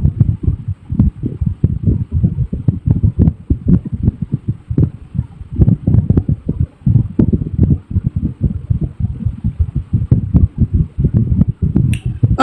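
Electric fan noise on a microphone, a loud continuous throbbing, buffeting rumble with rapid uneven pulses that carries on steadily throughout, with no voices.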